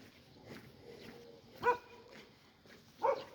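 A dog shut out on an apartment balcony barks twice, two sharp separate yelps spaced about a second and a half apart, faint and somewhat distant over quiet background noise.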